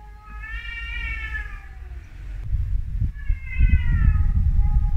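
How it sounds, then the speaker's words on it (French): Cats fighting, with long rising and falling yowls close by, followed by scuffling thumps and another drawn-out caterwaul. "Dis donc, une bataille de chats ou quoi?"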